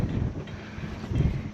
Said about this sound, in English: it's a bit windy out there